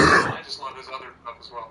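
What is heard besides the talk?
cough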